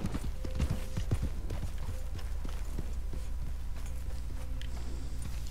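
Horse hooves clip-clop at a walking pace in Red Dead Redemption 2, with a few distinct near steps at first, then a softer steady rhythm under a low ambient background.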